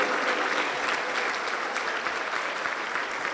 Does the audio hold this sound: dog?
no